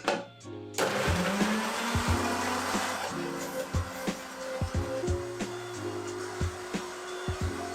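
A blender starts up with a sharp whir and keeps running loudly, its motor pitch wavering as herbs with stems and leaves and a garlic clove churn.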